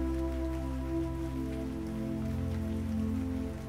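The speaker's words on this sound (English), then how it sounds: "The sound of the rain and the distant rumble of the approaching train" Misty rain falls steadily and evenly, with a continuous wash layered over a low droning rumble and sustained tonal hum throughout.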